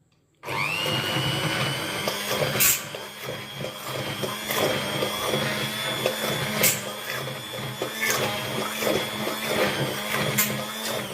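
An Anjali brand blender purees food in a home kitchen. Its loud, steady motor whir starts abruptly after a brief silence and runs continuously, with small surges and sharp rattling bursts along the way.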